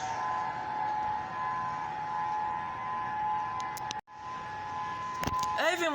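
A civil defense warning siren sounds during a monthly test in Honolulu, Hawaii, holding a steady wailing tone for several seconds. It cuts out briefly, then returns as a rising and falling sweep.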